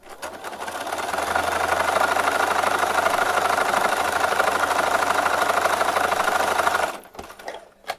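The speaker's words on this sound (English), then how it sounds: "I'm just going to fold this over the other one and then sew along that edge." A sewing machine runs steadily and close for about seven seconds, stitching folded quilt-block fabric along an edge, then stops with a few soft clicks.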